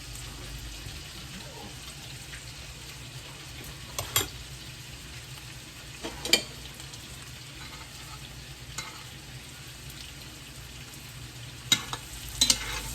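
Gnocchi from a second batch frying in a pan and being stirred, a steady sizzle with a few brief scrapes of the utensil against the pan, fairly quiet and with no talking.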